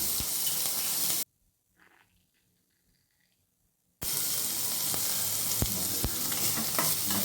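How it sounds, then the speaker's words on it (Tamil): Onions, curry leaves and green chilies sizzle and fry in a pan while being stirred for a savory snack filling, a loud close crackle that cuts out to near silence for a few seconds before resuming. "இப்போ கருவேப்பிலை, வெங்காயம் எல்லாம், பச்சை மிளகாய் எல்லாம் சேர்த்தாச்சு. நல்லா வதக்கிக்கலாம்."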